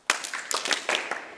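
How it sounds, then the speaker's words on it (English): A small group of people at a grappling camp clap one after another in a staggered pattern, a handful of sharp, separate claps spread unevenly over about a second, fairly close and with no talk. "So, staggered clap."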